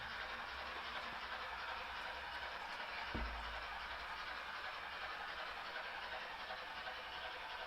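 An HO-scale BLI GS4 Daylight model steam locomotive runs steadily on its track during break-in, giving off a constant broadband hiss and rumble with one sharp click about midway.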